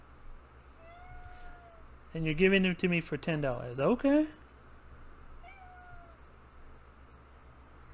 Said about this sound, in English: My cat's making noise.